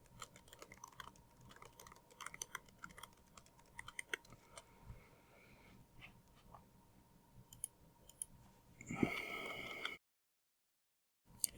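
Typing on a computer keyboard with quiet, sporadic key clicks spread across the clip, close but faint, ending in a brief louder burst of noise before silence.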